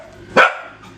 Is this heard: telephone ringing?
no